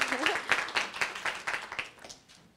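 Small audience at a university mentors' day event applauding, a brief burst of clapping that fades out over a few seconds.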